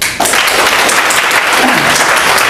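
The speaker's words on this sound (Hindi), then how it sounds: "एक बार सबके लिए ताली बजा दो आप" A crowd at a network-business training seminar bursts into loud, dense applause, many hands clapping continuously and close by from start to finish.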